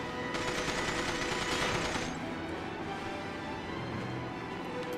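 An automatic turret in From Russia With Love fires a loud, rapid burst for about two seconds, then the shooting fades into a steady mechanical game drone.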